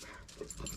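A pet dog named Jesse lets out a faint, brief whimpering yip indoors, a short soft cry of less than a second.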